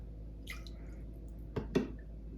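Water being added to brownie batter of vegetable oil in a mixing bowl, heard as two brief wet drips and splashes close by, with no talking.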